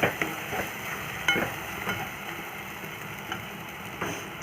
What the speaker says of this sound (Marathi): मसाले छान फ्राय करून घेऊया